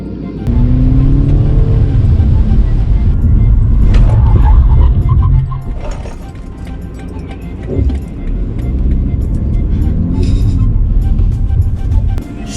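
A BMW 330i M Sport G20 engine rises and falls through acceleration from inside the cabin, with a loud rumbling pull, a brief lull, then building again, with no talk over it.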